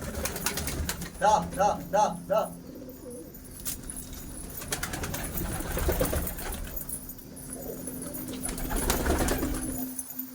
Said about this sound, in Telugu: ఇదిగోండి పావురం గుడ్డులో నుంచి వచ్చిన తర్వాత టూ వీక్స్ తర్వాత ఇలా ఉంటుంది